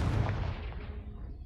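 A Confringo blasting spell cast in the Hogwarts Legacy video game, a single heavy explosive boom that hits hard at once and rolls away into a fading rumble over about a second and a half.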